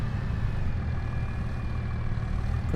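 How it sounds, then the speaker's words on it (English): A tractor engine in Farming Simulator 25 idles steadily, with a deep continuous rumble and faint whine held at constant loudness throughout, no talk over it. "I'm gonna get this tractor up and out of the way."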